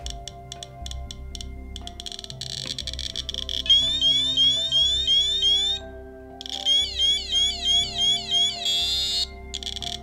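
A radiation detector beeps and chirps rapidly as it reacts to the alpha-emitting americium inside a smoke detector, first in quick pulses, then in fast warbling bursts with a short break, like an alarm reacting wildly.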